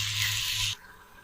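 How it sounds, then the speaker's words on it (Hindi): Water poured from a glass into a simmering kidney bean curry, a steady splashing gush that stops abruptly after about three quarters of a second, leaving quiet background. "अब इसमें मैं पानी शामिल करूँगी, 1 बाउल, 2 गिलास तकरीबन।"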